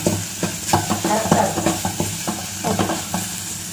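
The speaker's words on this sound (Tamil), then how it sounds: "இது கொஞ்சம் நல்லா வதங்கட்டும் ஃப்ரெண்ட்ஸ்." Ingredients for a sardine curry sizzle and fry in a pan while being stirred, with steady crackling and a rhythmic series of scraping stirs up close.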